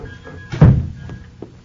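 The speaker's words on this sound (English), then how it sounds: "Close the door, Lois." A door shuts with a single dull thunk, a sound effect in a 1948 Gang Busters radio drama, standing out clearly against a quiet background with faint trailing noise afterward.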